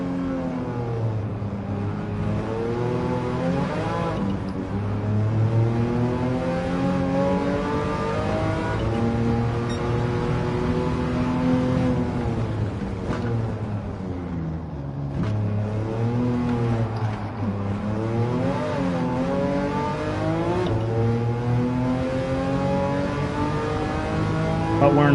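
A Volkswagen Bus with a swapped-in engine, driven in Gran Turismo 7, with a steady, loud engine drone and harmonics that rise and fall as it revs through the gears, continuous throughout.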